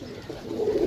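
Pigeons kept for sale coo softly in a short, close, low throaty burrow that swells slightly near the end.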